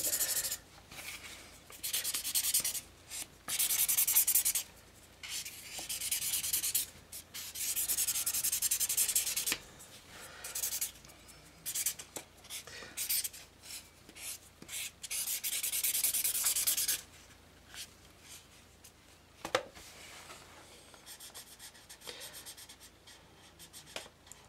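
Alcohol marker tip being rubbed clean on a piece of scratch paper, with repeated close scratchy back-and-forth strokes in uneven bursts, separated by brief pauses.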